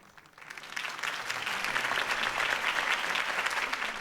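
A crowd applauds at a campaign speech in Batman: The Telltale Series, with sustained clapping that swells in the first second and then holds steady and dense.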